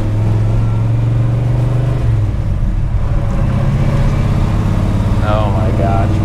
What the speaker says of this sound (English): Going through the gears is really easy.